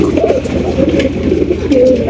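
Pigeons, white birds kept for sale at a Bangladeshi market, coo steadily in low, throaty, overlapping calls, close and loud, with a constant low hum behind them.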